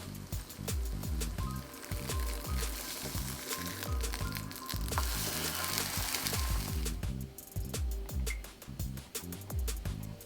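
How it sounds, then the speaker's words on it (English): A vegan fried egg sizzles in a little oil in a frying pan, a steady dense crackle with rapid popping that runs unbroken from start to finish, close and fairly loud. "Then we're just gonna fry it on the frying pan with a little bit of oil,"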